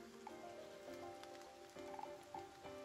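Hail patters in the video game Biped, faint scattered ticks and taps over a soft tonal game backdrop, irregular and quiet with no voices.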